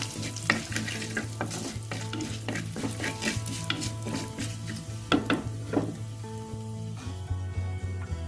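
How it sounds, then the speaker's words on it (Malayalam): Curry leaves crackle and sizzle in hot oil with browned spices for a fish curry with raw mango and coconut milk. The frying stays close and busy, with stirring throughout and faint tonal sounds in the background. "ഇനി ഇതിലേക്ക് 2 അല്ലി കറിവേപ്പിൻ്റെ ഇല ഇട്ട് കൊടുക്കാം. ഇതൊന്ന് വറുത്തെടുക്കുക അതിലിട്ടിട്ട്."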